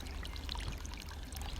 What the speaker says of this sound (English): After the water passes through the bog filter, it feeds a stream and gravity returns it to the pond.